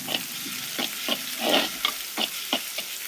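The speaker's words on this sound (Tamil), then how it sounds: "இப்போ நல்லா எல்லாத்தையும் கிளறி விடுவோம்" Onions and green chillies sizzle quietly in a hot pan while a utensil stirs them in repeated scraping strokes, the frying hiss steady underneath.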